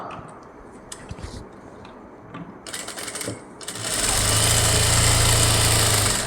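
A sewing machine stitching blouse fabric starts up and runs steadily, a fast mechanical whir with rhythmic needle clatter, loud and close after a few quiet ticks.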